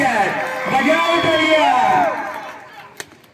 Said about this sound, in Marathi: जरा सर्व प्रेक्षकांनी दोन्ही संघातील खेळाडूंसाठी जोरदार टाळ्या वाजवत्या